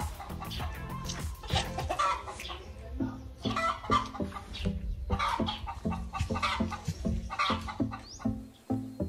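Farmyard poultry, turkeys among other fowl, roam a farm in Laos, giving repeated clucks and calls in an irregular, fairly close chorus with no talk over them.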